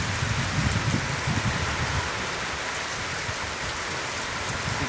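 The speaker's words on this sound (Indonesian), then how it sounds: "hujan-hujanan malam" Steady, dense rain pours down at night in the open, a continuous even hiss of drops with low rumbling spatter, loud and close with no voices.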